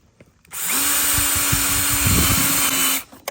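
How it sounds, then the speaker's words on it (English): A power drill drives a screw in one sustained burst of about two and a half seconds, whining steadily up close with a slight pitch dip partway, then stopping abruptly. "all I'm doing is drilling it in like that"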